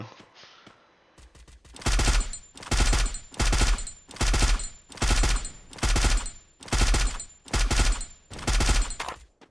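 Automatic gunfire from the video game Free Fire comes in eight evenly spaced loud bursts, each one a rapid rattle of shots. A few faint clicks come before the first burst.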